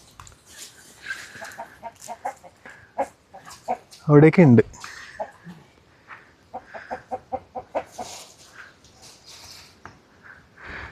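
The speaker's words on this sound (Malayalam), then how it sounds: "ഇവിടെ നിൽക്കുന്ന പോരു കോഴി സംഭവം" Clucks and short calls from a fighting rooster repeat through the clip, with one louder crowing-like burst midway, while people talk nearby at Koorumala viewpoint, Piravam, Ernakulam.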